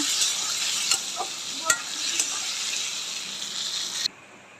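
Pointed gourd (potol) frying in hot oil, a steady close sizzle with a few light clinks of a utensil against the pan, cutting off abruptly at the end; no voices.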